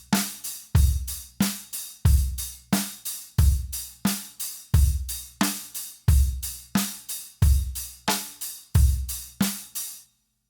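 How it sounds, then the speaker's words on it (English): A drum groove where the snare is struck off-center so its crack varies from hit to hit, alternating with deep kick thumps and continuous bright cymbal or hi-hat wash, loud and close with no talk. "If your stick's wandering around and you're hitting a different part of the snare drum"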